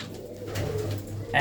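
Rajan and Sadh Ghanda Banna pigeons coo close by, a low rolling purr that swells and fades over a short stretch with no talking.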